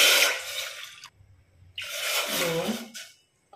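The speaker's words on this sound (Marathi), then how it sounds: "तर त्यामध्ये पाणी टाकून घेऊयात." Water poured into a cooking pot on a gas stove, heard as two separate splashing pours, the first about a second long and the second slightly longer after a short pause, close up and fairly loud.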